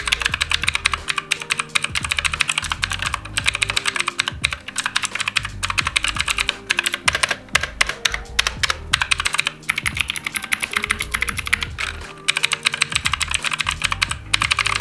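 Fast, continuous typing on a budget 87-key RGB mechanical keyboard, crisp clicky keystrokes in quick bursts with brief pauses, close up and alone.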